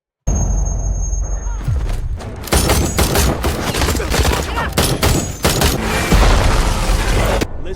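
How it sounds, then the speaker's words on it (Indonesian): A Hellfire missile strike hits its target in a combat scene, heard as loud, continuous explosive blasts and rumbling booms with crackling debris. The roar stays dense and close for several seconds before cutting off abruptly. "rapper menembakkan misil Hellfire tepat mengenai target"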